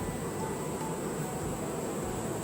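A dense, steady buzz of many bees, continuous and even, close by with no talking.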